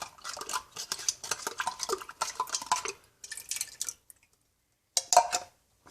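Tomato juice swirled and scraped around a tomato puree tin with a spoon, giving a run of close wet clinking and sloshing scrapes that pause briefly, then one last burst of scraping.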